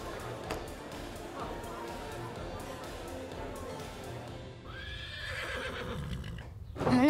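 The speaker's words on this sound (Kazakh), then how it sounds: "Міне, мынау біздің ат қора. Бұл жерде 40-тан астам ат бар." Horses whinny and neigh inside a stable housing more than forty horses, with soft hoof shuffling and background chatter, and a louder close neigh rising near the end while a voice speaks.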